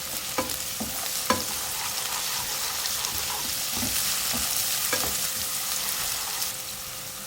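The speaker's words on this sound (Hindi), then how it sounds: "फ्राई करेंगे इसको।" Chopped green chillies and garlic-ginger paste fry in a pan with a steady, loud sizzle, while a utensil stirs and scrapes in occasional clicks.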